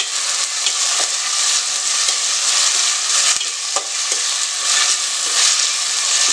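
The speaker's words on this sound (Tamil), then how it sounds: "அதை நம்ம போட்டு ஃப்ரை பண்ணிக்கலாம்" A ground paste of shallots, ginger and garlic fries in a pan for a mutton curry, with a strong, steady close sizzle and a few sharp ticks from stirring.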